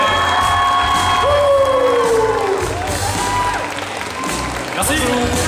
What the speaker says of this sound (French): Je vous demande un tonnerre d'applaudissements pour Tartinex et Farod